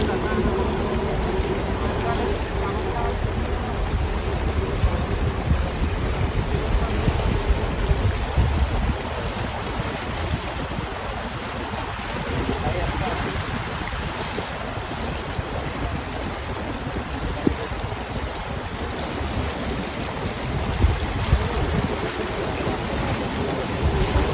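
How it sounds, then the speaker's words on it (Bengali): Floodwater about five feet deep on the Dhaka–Chittagong highway, stranded vehicles standing in it, its waves washing and churning continuously like surf, with wind buffeting the microphone and occasional louder splashes throughout. "মানুষ ঢেউয়ের শব্দ শুনে মনে হচ্ছে আমি সমুদ্র পারে আসি"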